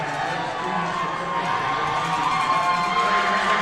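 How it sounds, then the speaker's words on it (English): A hockey arena crowd cheers loudly for a free t-shirt toss, a dense, sustained roar of many voices and shouts that swells slightly toward the end. "The cheering you're hearing is for a free t-shirt going down right in front of the broadcast booth, as Mitz is there tossing out some free swag"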